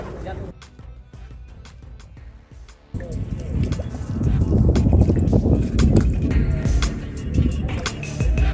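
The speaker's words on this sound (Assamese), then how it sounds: "এখন স্পীড বোটৰ জৰিয়তে আমি ভ্ৰমণ কৰি আছোঁ ব্ৰহ্মপুত্ৰৰ বুকুৱেদি।" A speed boat runs along the Brahmaputra river at Bhumuraguri. Quieter splashing and drips give way to a louder, sustained rush of engine, hull and water spray, with wind buffeting throughout and no speech.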